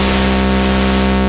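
Steady, loud white noise hisses from the mixer noise source of a Moog Messenger analog mono synth, a dense unbroken wash that holds level throughout.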